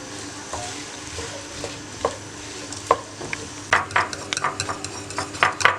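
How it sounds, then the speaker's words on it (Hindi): Onions fry in about half a cup of hot cooking oil for a keema karela curry, a steady close sizzle broken by clattering spoon strokes against the pan that grow more frequent near the end. "आधा कप कुकिंग ऑयल ले लें, उसको गरम करें और इसमें आप प्याज डाल दें।"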